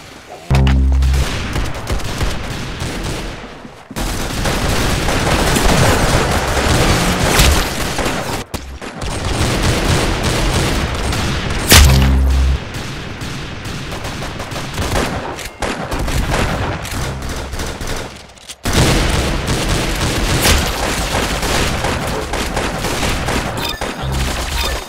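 Rapid bursts of video game gunfire and explosive booms in a shooter match, loud and nearly continuous with short breaks, dense layered shots throughout.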